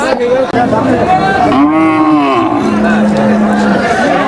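A cow at a cattle market lets out a long, loud moo that rises and falls, with a busy crowd murmuring in the background.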